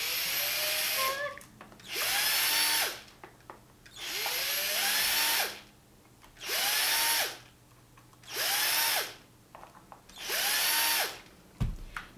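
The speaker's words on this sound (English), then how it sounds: "Now I'm going to cheat with my power drill." A power drill unscrews the screws of an NES controller in six separate whirring bursts, each rising in pitch and then stopping, with short quiet gaps between them and a small clack at the end.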